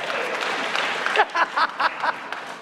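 Scattered audience clapping at a theatre season launch: a dense wash of applause fades into a few separate, louder bursts of claps near the end.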